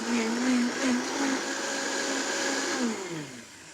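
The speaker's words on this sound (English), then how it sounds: "You're gonna start your blender on low, and then you're gonna build up the speed." A kitchen blender whirs at high speed through chilies for chili, its loud steady motor whine shifting in pitch as the load changes, then winding down at the end.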